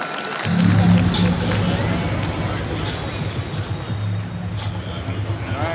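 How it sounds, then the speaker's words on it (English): A large boxing arena crowd roars, cheers and applauds after a fight-ending uppercut, a loud, dense, sustained wall of noise with whistles and shouts. "A round of applause."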